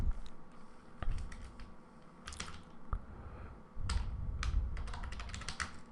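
Fast typing on a computer keyboard, with bursts of clicking keystrokes broken by short pauses and a steady room hum beneath, close and moderately loud with no talking.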